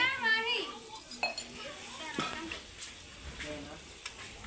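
Meat goes into a frying pan at an outdoor picnic, with sizzling, metal pan clatter and stirring scrapes heard under people talking, including a voice.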